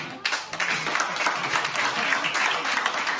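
Audience applause at a live comedy show, a dense, steady burst of clapping from a crowd that starts abruptly and holds loud and even throughout.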